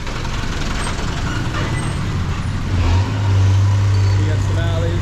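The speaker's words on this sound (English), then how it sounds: "A lot of traffic trying to go through" Steady street traffic on Goutoma Street in Ubud, Bali: a continuous rumble of cars and motorbikes, with a louder, heavier vehicle engine swelling close by partway through, and some voices faintly mixed in.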